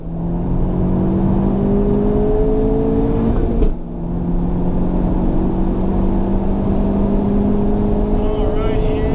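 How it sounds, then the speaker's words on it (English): Honda Civic Type R engine howling under hard acceleration on track up to the fourth-gear limiter, loud rising drone with a brief interruption midway, heard from inside the car. "Hit the fourth gear limiter 114."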